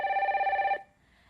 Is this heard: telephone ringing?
yes